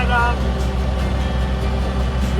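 Diesel tractor being driven, a continuous engine drone with a steady low rumble and faint overlapping sounds.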